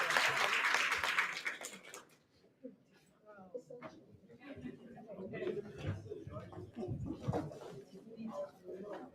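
An audience's applause for a named guest fills the first two seconds as a bright, crowded clatter of hands, then cuts off abruptly and gives way to someone speaking for the rest.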